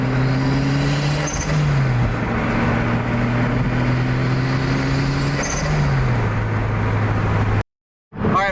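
A Lotus Elise with a turbocharged engine drives along, its engine drone steady and loud, pitch shifting in two clear gear changes before cutting abruptly near the end; no voices.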